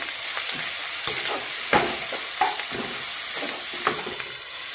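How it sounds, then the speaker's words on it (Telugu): Grated raw mango frying in oil for mango pulihora, a steady close sizzle with a few sharp stirring scrapes and taps scattered through it. "ఇది మగ్గాలండి నూనెలో"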